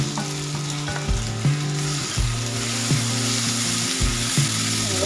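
Tomatoes frying in a pan of onions for a Motchai and Kovakkai masala pirattal, with steady loud sizzling and scraping stirs about every second and a half, close by with no talk.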